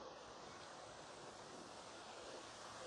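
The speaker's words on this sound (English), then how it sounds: "Kind of relaxing to hear the water, the waterfall." Steady rushing water from a resort waterfall in Deerfield Beach, Florida, a constant broadband hiss like falling water nearby, with no other sounds.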